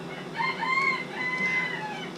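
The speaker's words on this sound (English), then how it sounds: "you can nicely hear the rooster at least" A rooster crows once in a drawn-out, wavering call at moderate distance, clear above a quiet outdoor background with no talk.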